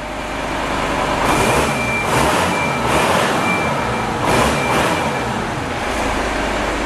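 A loud, steady VW Touareg V10 TDI diesel engine rumbles and revs, with a persistent airy hiss from a leak riding over it throughout.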